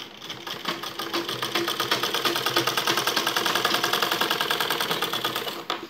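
Sewing machine running steadily while stitching a baby frock from waste cloth, joining the bodice fabric, a fast even mechanical chatter that stays loud and continuous for nearly six seconds before stopping abruptly.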